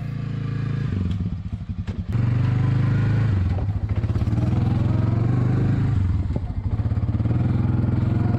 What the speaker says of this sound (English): you got to take Phil's ATV and go a long way in.